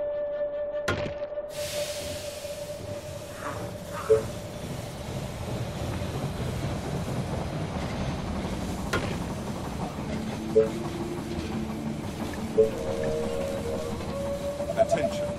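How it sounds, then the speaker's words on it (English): Train arriving at a station in the strategy game They Are Billions, a steady rumbling rail hum lasting throughout with occasional sharp tonal chimes and alert blips layered over continuous game ambience. "The train has arrived at the station."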